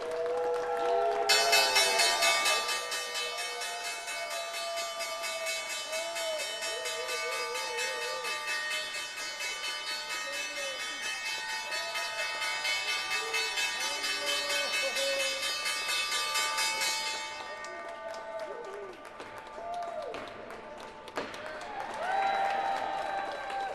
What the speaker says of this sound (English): the crowd goes wild down here on the trading floor of the New York Stock Exchange